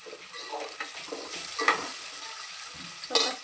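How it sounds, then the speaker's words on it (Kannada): Turmeric and salt fry in a pan while being stirred, a steady close sizzle with a few scraping clicks from the spoon, alone without talk. "ಸ್ವಲ್ಪ ಇದಕ್ಕೆ ಅರಿಶಿಣ ಹಾಗೆ ಉಪ್ಪು ಸ್ವಲ್ಪ ಫ್ರೈ ಮಾಡ್ಕೊಬೇಕು"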